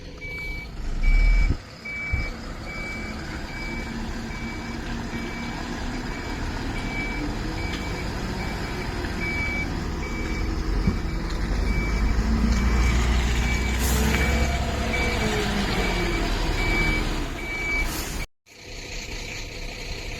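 A loaded truck on the NH66 route reverses while its backup alarm beeps in a steady, evenly spaced series, over a continuous diesel engine rumble with a brief air-brake hiss near the end, then the sound cuts out.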